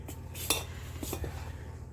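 Spoon scraping and clinking against a bowl while mixing dosa batter made from dosa flour, curd and water, with a few close, sharp knocks among soft continuous stirring.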